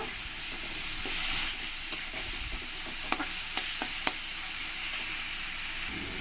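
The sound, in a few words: tomato with chilli ginger garlic paste sautéing in pan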